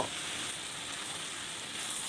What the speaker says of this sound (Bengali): মাছগুলো আমি মশলার ভিতরে দিয়ে হালকা করে কষিয়ে নেব।